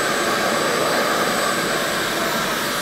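A hair dryer blows steadily and loudly, a constant whooshing airflow with a faint high whine and no pauses, while the unit puts out cool rather than hot air.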